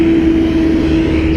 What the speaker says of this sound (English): Gee, those buses are noisy.